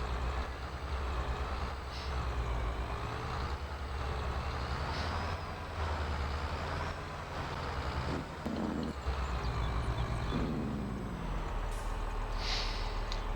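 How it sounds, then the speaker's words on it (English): Mack Titan truck in Farming Simulator 22 idling with a rumbling engine, broken by several short hissing bursts of air release, loud and close, with no talking. "So you can hit fold and you will drop air out of your drive axles."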